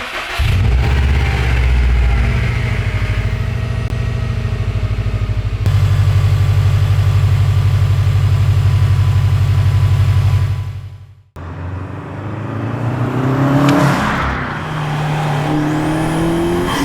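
Subaru WRX STI fitted with a Cobb Redline carbon fibre intake, engine running loud and close with a deep steady idle, a brief cut to near silence, then rising revs with a climbing intake note.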